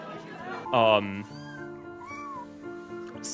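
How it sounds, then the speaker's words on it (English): A cat meows repeatedly at close range, its loud drawn-out cries rising and falling, with a sharp higher-pitched mew at the very end. "here's her previously trying to help a cat out"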